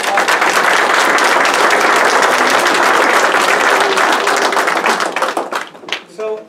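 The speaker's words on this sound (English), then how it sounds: "Another round of applause." Loud, dense applause from an audience at a museum talk fills the room steadily for several seconds, then thins into scattered claps and fades as a voice begins.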